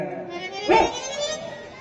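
A village dog gives a single sharp bark close by, a brief loud burst against a low background, with a voice audible around it.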